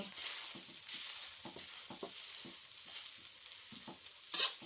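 Steady sizzling and frying with repeated scraping and stirring clicks of a utensil as leftover rice is stir-fried with cooked egg in a pan, close up, with no voices.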